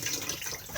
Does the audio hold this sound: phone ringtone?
no